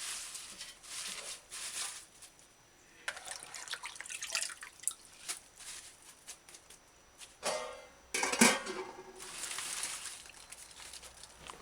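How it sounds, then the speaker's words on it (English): Water splashing and trickling off rinsed aralia herbs in irregular bursts, with drips and a brief louder pour midway, fairly quiet and close. "Give ARALIA a proper rinse in fresh water. Drain off excess water"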